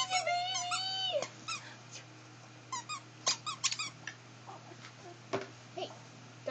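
Dogs whimpering and squeaking in high, wavering whines, several short cries in a row, then scattered yelps and squeaks, close and fairly loud with a low hum underneath.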